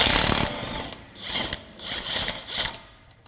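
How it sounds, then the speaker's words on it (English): Close metallic scraping and ratcheting clicks come in short bursts as a wrench takes an axle nut off after the cotter pin and castellated retainer are removed. The clicking is fairly loud and uneven, and no one talks over it. "So now, take the nut off."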